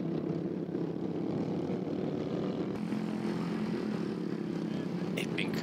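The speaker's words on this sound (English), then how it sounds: "Epic racing from our midgets." Midget race cars racing on a circuit during a twelve-minute race, a steady droning engine roar from several cars at a moderate distance, continuous throughout with a faint higher whine near the end.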